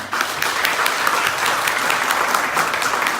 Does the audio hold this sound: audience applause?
yes